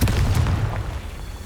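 A Confringo blasting spell explodes in Hogwarts Legacy, a heavy booming blast that rolls away over a second and a half, loud and close.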